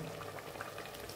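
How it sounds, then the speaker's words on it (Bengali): Hot water goes into a pan of chicken curry cooking with vegetables and spices, producing a faint, continuous bubbling sizzle with no pauses. "এবার এখানে একটু গরম জল দেব"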